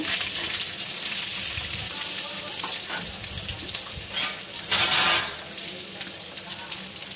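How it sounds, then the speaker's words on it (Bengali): Thin-cut potatoes frying in hot oil give a dense, loud, continuous sizzle close by, with occasional stirring scrapes and a brief swell of hissing midway, and no talking. "এবার আমি সরু সরু করে কেটে রাখা আলুগুলো দিয়ে দিলাম আলুটা দিয়ে একটু নাড়াচাড়া করতে হবে তেলের মধ্যে"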